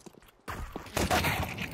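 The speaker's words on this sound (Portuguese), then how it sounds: "Nossa, mas o Tez chegou da varanda trocando tiros, hein, mano?" A burst of rapid gunfire from a competitive shooter match, Pain versus Heroic on the map Dacha, with sharp overlapping shots and clatter starting abruptly after a brief quiet moment, close and loud.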